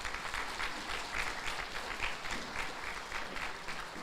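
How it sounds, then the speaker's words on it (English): A meeting audience claps for standing committee members at a cooperative's annual meeting, a moderate, steady round of applause with a few sharper individual claps. "Please join me in a round of applause for these committee"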